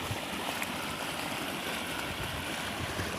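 Irrigation water flows into a chili field, a quiet steady gurgling wash with no speech.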